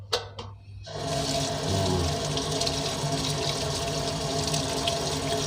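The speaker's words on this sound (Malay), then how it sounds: "Tapi paling bagus guna air yang mengalir lah." Steady running tap water gushes into a sink while prawns are rinsed, loud and continuous after a few brief knocks at the start, with no talking.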